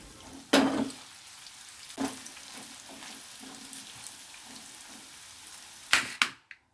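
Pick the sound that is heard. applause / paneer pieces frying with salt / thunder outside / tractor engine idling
paneer pieces frying with salt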